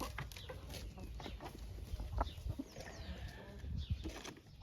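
Chickens clucking inside a chicken coop, soft irregular clucks and short calls at close range against a quiet, rustling background.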